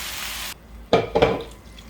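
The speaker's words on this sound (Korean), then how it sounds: "이렇게 야채를 넣고 이렇게 한 조금 볶은 다음에 이제 여기다 육수를 부으세요." Broth made from water is poured into a pot of lightly stir-fried vegetables while cooking soft tofu stew. A steady splashing pour is followed by a pause and two short clattering bursts, heard close up with no talking.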